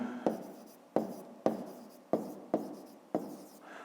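Pen or chalk strokes tap and scratch out a math solution: six sharp, separate strikes spaced about half a second apart, each trailing off into a short scratchy stroke, close and clear with no talk.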